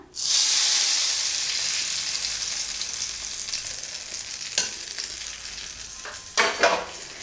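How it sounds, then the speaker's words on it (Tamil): Tempered sesame oil poured into a horse gram mash sizzles loudly at once, then settles into a steady hiss that fades slowly, broken by a few spoon scrapes near the end. "இப்போ தாளித்த நல்லெண்ணெயை நம்ம இந்த கொள்ளு மசியில் ஊற்றிடலாம்"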